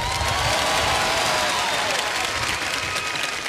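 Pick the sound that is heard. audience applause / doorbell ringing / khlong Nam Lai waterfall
audience applause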